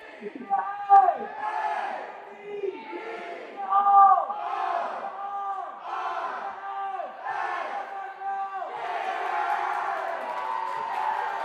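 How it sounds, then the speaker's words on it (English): At an indoor volleyball game, a boys' basketball team leads a crowd in rhythmic chants and cheers for the Lady Gators, with repeated loud shouted bursts filling the gym. "Guys basketball team out here cheering for our Lady Gators, leading in some crowd chants"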